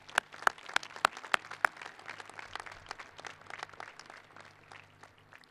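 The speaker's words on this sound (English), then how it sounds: "Let's give them another round of applause for their thoughtful and inspiring messages." Applause from the audience at a high school graduation, opening with a few loud, distinct claps nearby and then spreading into a softer, scattered round of clapping across the hall.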